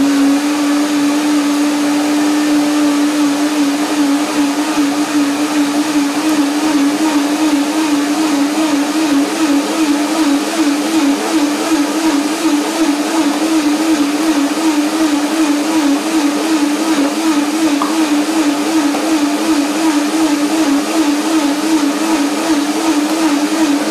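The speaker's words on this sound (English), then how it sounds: "I'll blend it together with the carrot to see what happens." A blender runs continuously, steady and loud, processing carrot with fresh tarragon into soup, its motor whine holding an even, unbroken pitch with a slight wavering rhythm throughout.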